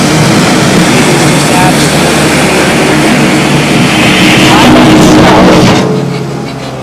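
A 2015 Kubota L4060 42 HP hydrostatic diesel tractor engine runs loudly and steadily with a heavy rumble, then the sound drops to a lower, quieter idle near the end as the auto throttle eases off at a stop.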